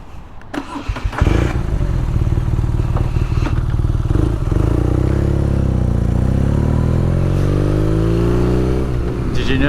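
A motorcycle on the Pacific Coast Highway in Oregon on roads drying after rain, its engine catching and settling into a loud, steady close drone with shifting pitch, nearly alone.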